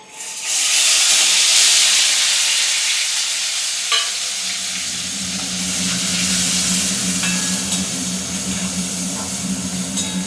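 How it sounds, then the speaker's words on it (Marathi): Coarsely ground onion, ginger and garlic paste sizzles and hisses in a hot pan with whole spices, a loud steady fry that rises sharply as the paste goes in and keeps crackling throughout, no talk. "आता कांद्याची पेस्ट व्यवस्थित भाजून घ्यायची"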